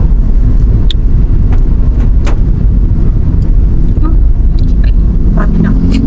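Heavy road traffic in Barangay Magallanes, a loud continuous rumble of car engines close by, with people talking over it.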